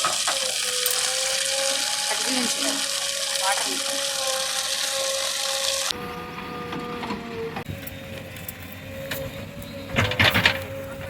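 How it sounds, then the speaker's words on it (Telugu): A borewell pump runs outdoors with water gushing out in a loud, steady hiss and a mechanical hum. The tone shifts partway through as the flow settles, and a person speaks intermittently over it. "వాటర్ అయితే వచ్చేస్తున్నాయి చూడండి."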